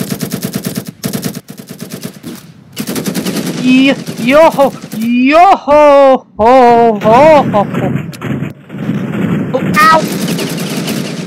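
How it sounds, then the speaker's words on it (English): Rapid machine-gun bursts and gunshots rattle loudly through a chaotic Ravenfield video game battle, firing in dense volleys under an excited voice that cries out and shouts. "Oh god, I'm getting shot to hell, aren't I?"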